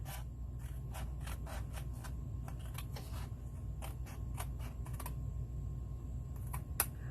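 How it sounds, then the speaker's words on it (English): Scissors snip through card along a score line, a quick run of sharp, close cuts repeating in a steady rhythm over a low steady hum, with no voices. "I'm cutting off here at this score line"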